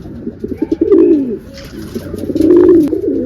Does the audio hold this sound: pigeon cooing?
yes